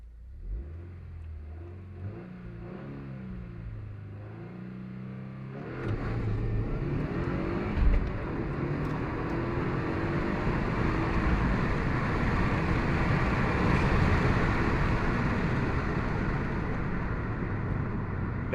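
A car launches from a standstill with traction control switched off, the engine idling and burbling before a loud, sustained surge of hard acceleration that holds steady and close for the rest of the run.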